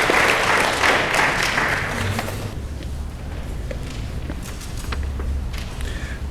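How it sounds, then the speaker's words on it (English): Audience applause at a raw vegan diet presentation, a dense wash of clapping for about two seconds that thins into scattered claps and room noise. "Now, I think that deserves an applause."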